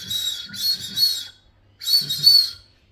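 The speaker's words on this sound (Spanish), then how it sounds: "Hoy vamos a enseñar a hacer silbatos o chifletes para cacería de siriri." Two bursts of shrill, warbling whistle calls from a handmade duck-hunting whistle, the first with several quick notes, then a pause and a second burst.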